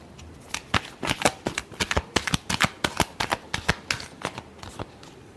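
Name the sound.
shuffling tarot cards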